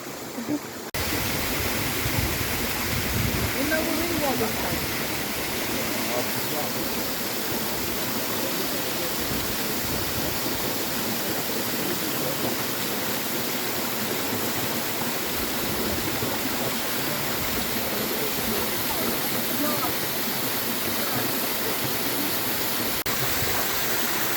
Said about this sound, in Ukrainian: Ось ми і прийшли на водоспад